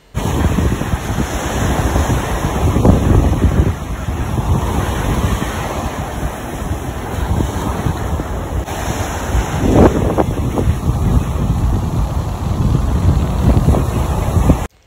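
Atlantic Ocean surf breaking on a beach at a Caribbean-style resort near Puerto Plata, a steady loud wash of waves under strong gusting wind buffeting the microphone, with no voices.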